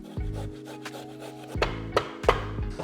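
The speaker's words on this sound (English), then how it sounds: "This is the fresh ginger. Of course, you grate this." Fresh ginger is grated in a kitchen, with close, rhythmic rasping strokes scraping against the grater, a few sharper strokes standing out toward the end.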